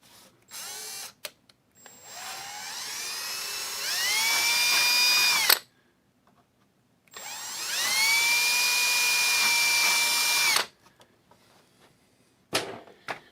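A power drill whines in two long bursts, rising in pitch as it bites through Gatorfoam board, with short quiet pauses and brief handling noises between.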